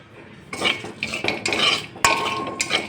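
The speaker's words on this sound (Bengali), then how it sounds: "ফোড়নের জন্য জিরে, শুকনো লঙ্কা আর একটা তেজপাতা দিয়ে দিলাম। এবার এটা ফোড়নটা ভাজা ভাজা হবে।" Cumin seeds, dried chillies and a bay leaf tempering in hot oil in a pan, with bursts of crackling fry and metal utensil scrapes and clinks from stirring, close and fairly loud.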